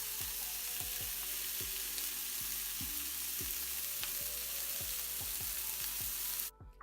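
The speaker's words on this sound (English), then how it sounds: "you're just going to put each patty in the pan and let it cook to maybe medium well" Salisbury steak patties sizzle steadily in a pan, with a constant close frying hiss and a series of light scraping or clicking touches, ending abruptly with no talk.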